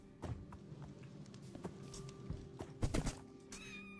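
A horse in Minecraft Bedrock whinnies and stamps, giving scattered hoof clops and thunks, a couple of neighs and a game chime near the end, all fairly quiet with no talking.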